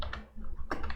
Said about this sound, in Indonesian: Sekarang ini barang kayak notepad ya, saya bisa ngetik isinya apa